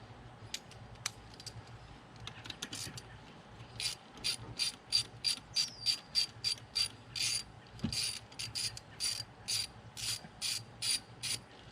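Ratchet wrench loosening intercooler bolts on a 2015-or-later Subaru WRX, a sharp rapid clicking in repeated bursts that grow steadier and louder midway, close up with no talk.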